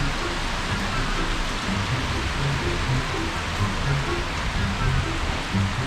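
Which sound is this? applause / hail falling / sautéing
hail falling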